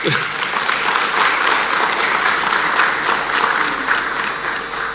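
A seated audience at a launch event in Jamaica breaks into applause, a loud, even wash of many hands clapping that holds steady throughout and fades only slightly at the end.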